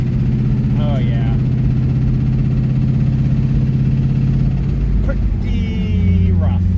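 A GM LS1 V8 with a worn rod bearing idles roughly with a persistent low knock under the running engine, close and loud, while people talk over it.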